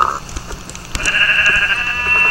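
A sheep bleats in a video game, one drawn-out nasal bleat close up, preceded by a short animal call and light game sounds, with no talking.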